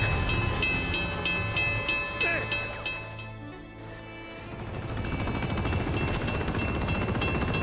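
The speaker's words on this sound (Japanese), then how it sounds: "ほぼもうミサイルの音で聞こえなかったけどね。" A dense roar of missiles and gunfire fills a chaotic firefight in the video game Uncharted, with rattling bursts and booming blasts that dip briefly and then swell back to a loud, continuous din.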